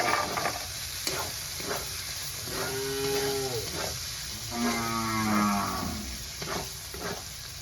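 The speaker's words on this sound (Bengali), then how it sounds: "তারপর টমেটো কুচি, কাঁচা লঙ্কা কুচি দিয়ে ভালো করে ভেজে নেব" Chopped tomato and green chilli frying in a pan, a steady sizzle with stirring scrapes, while a cow moos loudly twice in the background partway through.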